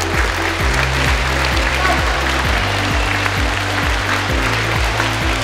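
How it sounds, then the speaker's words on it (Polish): An audience applauds the 400 competitors of a primary school wrestling championship in Poland, a dense, steady clapping carried under loud rhythmic music throughout. "Gorąco brawa dla wszystkich 400 uczestników naszych zawodów."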